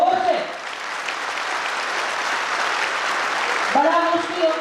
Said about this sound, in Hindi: उसके लिए एक बार जोरदार ताली बजाओ।